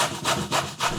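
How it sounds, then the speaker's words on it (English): Fresh daikon radish rubbed against a grater, three or four rhythmic rasping strokes heard close and fairly quiet, with no talking. "Now grate up 550 grams of the daikon and weigh that up."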